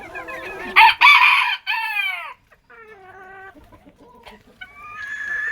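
A rooster crows loudly nearby, followed by hens clucking and squawking in short, uneven bursts.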